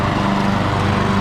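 A Husqvarna HU775H self-propelled lawn mower engine runs steadily up close, a loud continuous drone with a constant hum and no voices over it.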